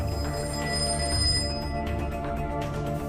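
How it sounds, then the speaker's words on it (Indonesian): A telephone bell rings continuously, steady and fairly loud, layered over a dense, busy background with no talking. "tiba-tiba ia mendengar suara telepon berdering"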